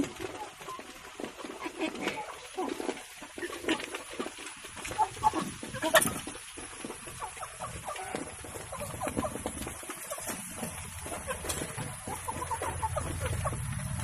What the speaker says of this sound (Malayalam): ഇതാണ് എൻ്റെ നാടൻ കോഴി